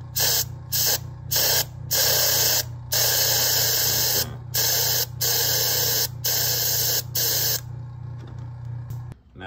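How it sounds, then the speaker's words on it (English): An airbrush gun with a previously stuck trigger releasing bursts of pressurized air, repeated hissing sprays of varying length separated by brief pauses, over a steady low hum, close and loud. "Pump it, open it up, and then spray it."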